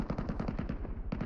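Rapid automatic gunfire in PUBG Mobile Metro Royale, a tight burst of about a dozen evenly spaced shots, loud and close, broken by a short gap before a few more rounds.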